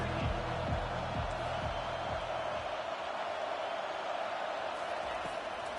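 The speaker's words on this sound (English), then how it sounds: "This crowd trying to make life miserable for this offense." Stadium crowd noise in the college football video game NCAA 25 forms a steady, dense roar with a faint rhythmic thumping early on, continuous and fairly quiet.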